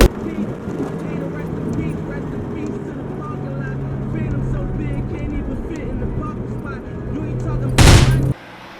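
A Mazda RX-8 rotary engine with a blown apex seal runs rough and rattling, then lets out a sharp burst of noise and cuts out abruptly.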